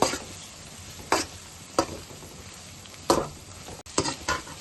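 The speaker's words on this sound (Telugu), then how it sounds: "ఇలా వేపుకోవాలి ఇలా పెద్ద ముక్కల్లాగానే ఉండాలి మరీ చిన్నగా కాకుండా ఇలా వేపుకోవాలి" Egg pieces fry in a pan for egg noodles, a steady sizzle with several short, louder bursts of stirring and scraping at irregular intervals, close and without talk.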